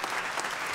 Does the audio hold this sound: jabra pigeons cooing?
no